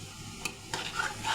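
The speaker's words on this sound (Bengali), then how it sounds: "আমি আরও কিছুক্ষণ এভাবে নাড়িয়ে নেব" A spoon briefly scrapes and stirs homemade tomato sauce in a pan, giving a few quiet, close strokes over a faint sizzle.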